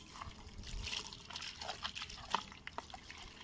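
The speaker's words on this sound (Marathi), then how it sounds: "हे ना झाडांना घालूया पाणी ना मच्छीचं." Water left from washing fish is poured out onto garden plants, a faint, close trickle and splash with soft drips and sloshing.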